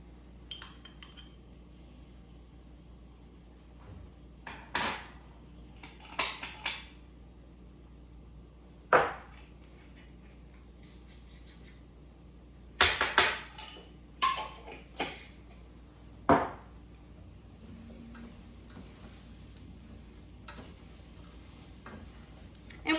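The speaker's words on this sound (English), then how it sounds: "Give everything a good toss." Coq au vin ingredients tossed and stirred in a pan over the heat, giving soft scraping, clinking utensil contacts and a few sharp knocks spread irregularly over a low steady sizzle, with no talking.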